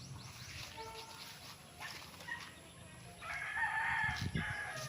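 A rooster crows a few times nearby on a farm lot in Pila, Laguna, amid faint background clucks and rustling, fairly quiet overall.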